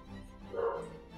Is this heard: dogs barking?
yes